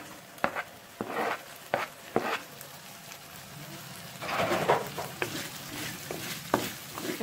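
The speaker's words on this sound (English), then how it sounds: "Stir until it caramelizes and become brown color." Onions frying in a pan for South Indian pepper chicken with green chilies, stirred by hand: a steady sizzle under repeated scraping strokes of a spoon across the pan, with no talking.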